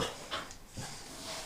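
A dog pants in quick, breathy puffs while at play, close by and fairly loud, with a faint whimper and no voices.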